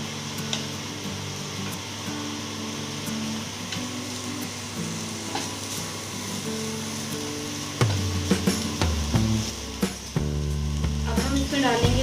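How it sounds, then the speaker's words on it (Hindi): Ingredients for potato chicken cutlets lightly frying in a pan over a low flame, a steady loud sizzle with occasional stirring scrapes and clinks, louder bursts near the end, no talking. "हमने लाइट सा ही फ्राई करना है इन सब चीज़ों को"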